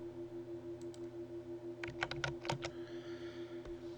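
Several crisp keystrokes on a computer keyboard, typing the Alt and left bracket keys, come in a quick cluster of close clicks against a faint steady hum, with no talking.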